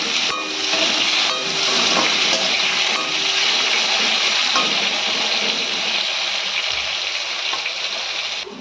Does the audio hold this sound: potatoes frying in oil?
yes